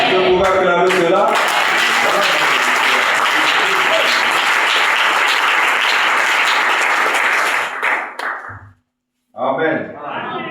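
A church congregation at a sermon breaks into loud sustained applause and cheering that fills most of the stretch, then fades out, with a brief silence before a voice speaks again.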